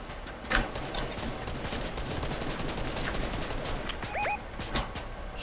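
Rapid video game gunfire crackles in dense, continuous bursts from several directions, with sharper individual shots popping over a steady noisy background.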